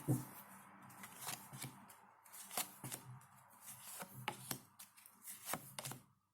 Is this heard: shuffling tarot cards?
yes